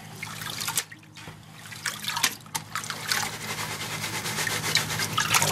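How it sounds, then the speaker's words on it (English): Water sloshes and trickles in a gold pan being shaken to wash sand and material off the top, a steady close splashing with a brief lull near the start. "I just like to shake it, try to keep it in the corner, keep the gold down in the corners, wash the top layers off of sand and materials off."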